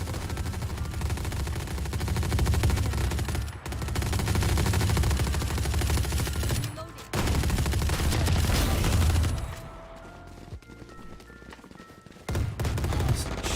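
Gunfire in a shooting video game comes as dense, loud bursts of rapid shots with brief pauses, then thins out and quietens before a short burst returns at the end.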